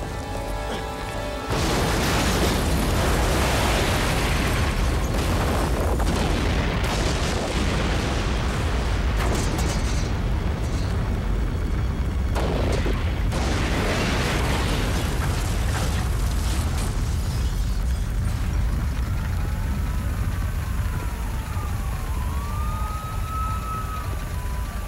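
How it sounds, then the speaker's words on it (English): Violent blast tearing through a gas station in an action movie scene, a loud sustained roar of fire and debris with rumbling low end throughout, followed by rising siren-like wails and tones late in the clip. "a suspicious explosion has ripped apart a local neighborhood business"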